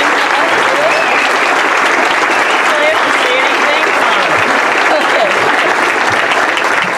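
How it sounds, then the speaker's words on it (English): Dense, sustained applause from a banquet audience honoring an award recipient at a chamber of commerce annual awards program, loud and steady throughout without a break. "So let's give her a nice round of applause."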